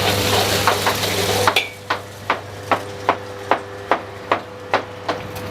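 Garlic and spring onion stir-fried in a wok, a loud sizzle fading after the first moments, then a regular run of sharp spatula taps and scrapes roughly every half second.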